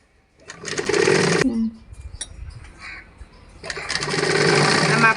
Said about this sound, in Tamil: அப்படியே ஒரு கால் இன்ச்சுக்கு நம்ம வேஸ்ட் ஸ்டிச்சிங் பண்ணிட்டு வரலாம்